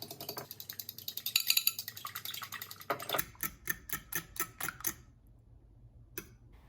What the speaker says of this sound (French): On va venir battre nos œufs énergiquement.